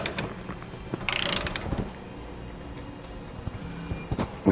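Socket wrench ratcheting while tightening fifth wheel bracket bolts to frame rails on a 2018 GMC Sierra 2500, a quick burst of ratchet clicks near the mic among scattered mechanical clanks and taps.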